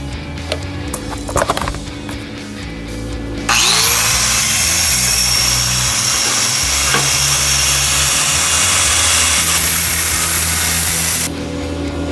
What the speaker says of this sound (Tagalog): Sa akin, dahil may grinder naman ako,